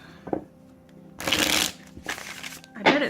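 Close-up tarot card shuffling in a few short riffling bursts separated by brief pauses, with a faint voice at the start.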